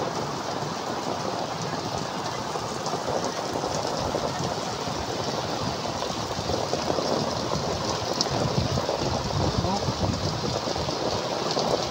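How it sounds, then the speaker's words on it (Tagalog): Heavy afternoon rain pours down steadily in a dense, unbroken roar that holds close and loud for the whole stretch, with no break in the downpour. "Lakas ng ulan, oh."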